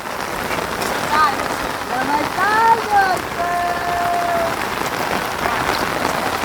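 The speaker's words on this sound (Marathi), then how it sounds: "पाऊस आला आहे" Heavy rain falls over village fields in a steady, even hiss of drops that lasts the whole time, while a few brief whistling tones cut through near the middle.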